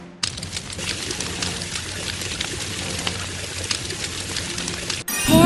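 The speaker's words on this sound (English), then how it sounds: "Use water to put out the fire!" Water pours steadily onto a zoo fire in a Robocar Poli video game, a continuous splashing stream running for about five seconds before cutting off into a different, louder sound.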